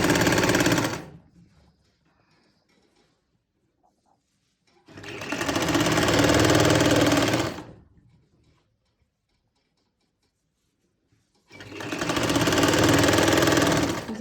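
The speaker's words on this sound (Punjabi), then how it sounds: "ਸਿੱਧੇ ਪਾਸੇ ਆਪਾਂ ਸਲਾਈ ਲਗਾਉਣੀ ਆ" A sewing machine stitches a kameez neckline in three loud bursts of steady whirring. Each run lasts about two to three seconds, with near-silent pauses between them.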